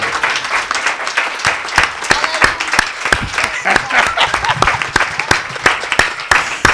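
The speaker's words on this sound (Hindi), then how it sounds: "गीत गाएंगे, कलाम सुनेंगे और तालियां भी बजाएंगे" Church audience applause, steady dense clapping close by throughout, with a voice speaking under it.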